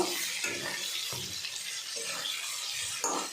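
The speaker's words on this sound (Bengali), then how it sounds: "পটলগুলো লাল লাল করে ভেজে নিচ্ছি" Pointed gourd (potol) pieces frying in oil in a pan, with a steady hiss of sizzling and a few soft scraping stirs, close and continuous with no talking.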